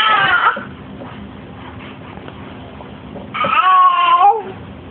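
A pet cat lets out two loud, drawn-out meows close by, separated by a few seconds of quiet background.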